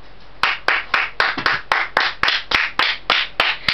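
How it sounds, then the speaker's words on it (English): Slow, deliberate clapping of hands, about a dozen sharp separate claps at an even pace, close and loud with no crowd joining in. "Let's give him a round of applause."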